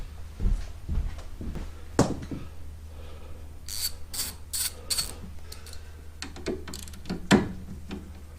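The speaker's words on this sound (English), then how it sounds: "Let me get my socket, my ratchet." A socket ratchet wrench works on a scooter's front suspension arm bolt, with scattered metallic clicks and a quick run of ratcheting strokes in the middle, plus clunks and scraping of tools nearby. No one speaks.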